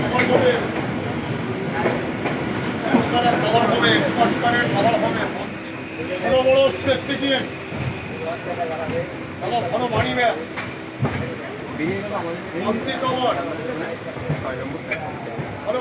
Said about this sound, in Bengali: ও এখন আমাদের ট্রেন ছেড়ে বেড়ালো শিয়ালদা স্টেশন থেকে